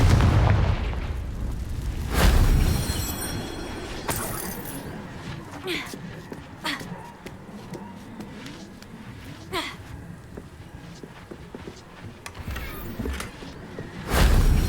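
Confringo fire spell explosions in the video game Hogwarts Legacy: a sharp blast near the start, then several further bangs and crackling impacts spread across the stretch, with a low rumbling background between them.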